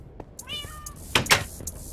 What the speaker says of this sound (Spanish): ¡Cómo maulla!